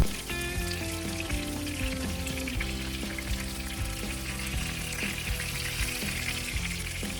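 Mini seekh kababs shallow frying in oil over medium heat, a steady close sizzle running continuously with no talk over it.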